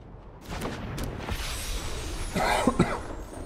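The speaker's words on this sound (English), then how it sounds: "Sorry for the cough" A person coughing, a few harsh, close bursts in quick succession including a louder pair near the end, with no talking.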